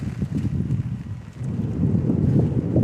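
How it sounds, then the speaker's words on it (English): Steady gusting wind buffets the microphone outdoors during an open-air sermon, a continuous low roar that dips briefly midway then swells stronger, with no speech. "It's getting windy."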